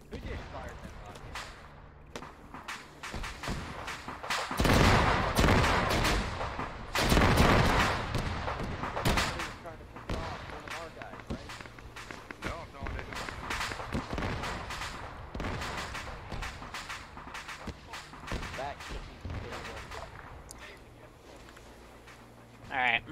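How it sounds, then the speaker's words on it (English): Video game gunfire cracks out in irregular bursts, with heavy clusters of shots and booming impacts mixed under ongoing voice chat and game noise throughout. "Who just fired that gun?"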